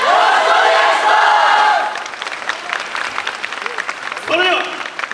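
Audience applause and cheering fill a Japanese Okayama Urajaren Hasushizuku dance troupe performance venue before the dance, dense and loud at first, then thinning into scattered claps with voices calling out.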